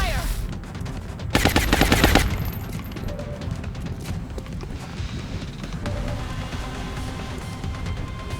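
A burst of rapid automatic gunfire in the XCOM Long War game, a loud, dense rattle lasting about a second, followed by lower battle noise and scattered smaller impacts.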